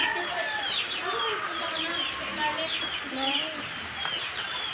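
Chickens cluck and chatter continuously at moderate distance, overlapping calls over a soft hiss of rain.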